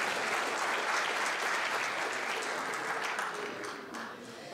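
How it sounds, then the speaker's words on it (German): Audience at a charity gala in Frankfurt applauds after a stage performance, a dense, steady wash of clapping throughout that eases slightly toward the end. "Noch einen Applaus für Pihu"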